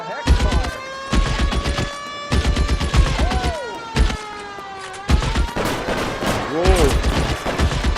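Gunfire during a shootout in the video game L.A. Noire comes as repeated loud pops among game dialogue and a steady tonal background, with sweeping whistle-like sounds between shots.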